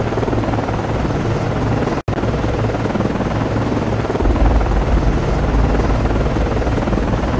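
An SH-60 helicopter's rotor drones loud and steady aboard an Arleigh Burke destroyer in the naval game Cold Waters, a continuous near wash of blade and turbine noise with a brief dropout.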